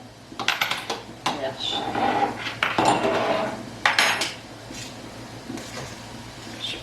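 A spoon clinks and scrapes in glass canning jars as mushrooms are packed tightly inside, giving irregular clattering bursts at close range, with a brief spoken word.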